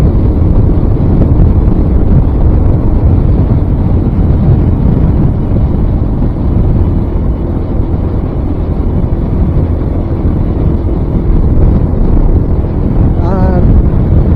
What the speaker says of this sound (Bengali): বাতাসে কেমন যেন আমাকে সামনে থেকে ধাক্কা দিতেছে প্রচুর পরিমাণে